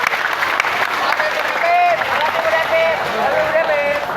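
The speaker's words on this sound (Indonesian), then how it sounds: "Tepuk tangan untuk guru matematik." Applause for a mathematics teacher during an assembly at a senior high school, with scattered clapping and crowd noise mixed with cheerful voices and shouts, fairly close and lively.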